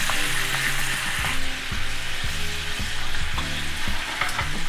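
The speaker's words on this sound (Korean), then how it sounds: "다른 팬에 버터를 올리고 준비해둔 양파와 소스를 넣어 끓이다가 노릇하게 구운 연어를 넣고 숟가락으로 끼얹어가며 소스를 코팅" Salmon simmers in a pan with butter, onion and sauce. A steady close sizzle and bubbling runs under repeated scraping and clinking as a spoon bastes sauce over the fish.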